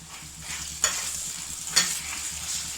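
Tamarind rice mixture is stirred in a pan over a low flame, with a steady close sizzle and two sharp scrapes of the spoon against the pan.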